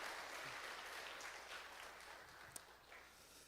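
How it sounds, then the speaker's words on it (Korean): A church congregation at a Sunday worship service claps in praise, a soft, sustained wash of applause that fades slightly, with one sharp click near the end. "하나님께 영광의 박수를 드리겠습니다."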